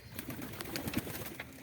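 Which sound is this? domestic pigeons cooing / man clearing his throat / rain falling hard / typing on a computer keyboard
domestic pigeons cooing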